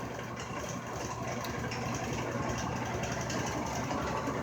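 A wobbling wood lathe turning a red bud bowl blank runs with a steady, dense mechanical hum and rumble, while a box fan on the table beside it adds a continuous close rattle.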